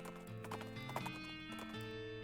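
Rapid, rhythmic hoofbeats of a fast horse galloping in the western video game West of Loathing, close and steady over a layer of sustained music tones.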